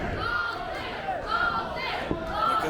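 A wrestling crowd at a Blaze Pro Wrestling event chants in unison about high vis, the rhythmic chant rising and repeating in waves through the hall while a commentator talks over it.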